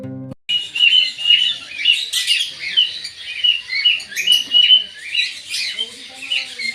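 Lovebirds in a small zoo aviary hut chirping and squawking continuously, with bright overlapping calls and sharp tweets close by.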